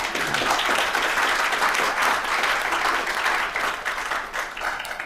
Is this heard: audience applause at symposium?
yes